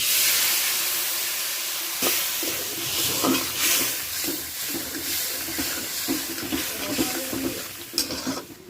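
Hot oil sizzles and hisses loudly in a pan of fish curry, with bursts of crackling and spattering as water hits it, no voices.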